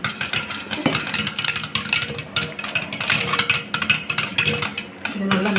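A homemade herbal soap mixture is stirred after ground kuppaimeni and tulsi juice is added. Busy, continuous scraping and clattering of a utensil in a container goes on throughout, fairly close.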